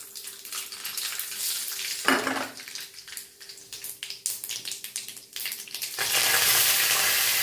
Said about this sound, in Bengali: এইবার এর মধ্যে আমি দেবো জিরে আর অল্প জিরে, অল্প সর্ষে ফোড়ন।